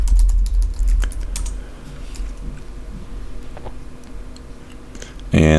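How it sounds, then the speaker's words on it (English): Close, quick typing on a computer keyboard, with irregular clusters of light key clicks. A louder burst of keystrokes comes at the start, a brief heavy thud lands at the very end, and no one talks. "If I could type."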